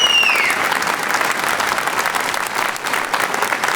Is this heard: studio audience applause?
yes